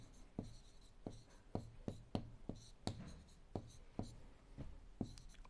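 Chalk or marker strokes on a classroom board while writing out a Class 7 linear equation, a series of sharp taps and short scratchy strokes in an irregular rhythm, close and fairly quiet.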